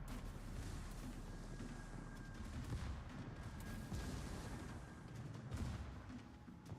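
Warship guns fire in World of Warships, an Alaska battlecruiser shooting at an enemy ship: deep, rolling booms and thuds of naval artillery that come in heavy volleys over a constant low rumble.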